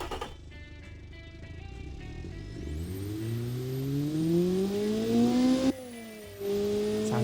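A small single throttle body engine fires up and revs, its pitch climbing steadily and loudly, then dropping briefly before rising again; it is heard close with little else around.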